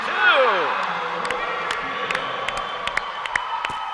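Volleyball fans cheer and whoop loudly in a gym after a rally ties the game, with a shrill shout at the start, then sustained crowd noise broken by scattered claps and sharp impacts.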